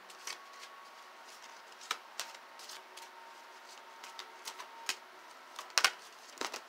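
Crystal oracle cards being shuffled by hand, with a string of soft, quick papery riffles and taps, close and quiet, one sharper burst near the end, and no talking.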